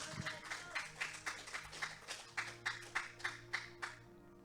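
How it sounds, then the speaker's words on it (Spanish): A church congregation claps in a steady rhythmic beat, quiet and somewhat distant, a dozen or so even claps over a low background with faint sustained tones. "Denle un aplauso al Señor."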